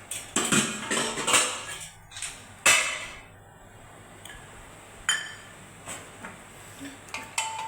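Belt fish stirred in a non-stick pan with a metal utensil makes a run of clinking, scraping knocks at irregular intervals, loud and close, with quieter gaps between them.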